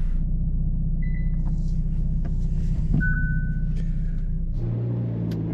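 A 2022 Hyundai Elantra N on a racetrack gives a low, steady engine rumble heard from inside, with a couple of brief electronic beeps and a slight drop in tone near the end.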